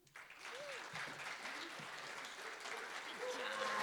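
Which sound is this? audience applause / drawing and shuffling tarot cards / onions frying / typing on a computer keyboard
audience applause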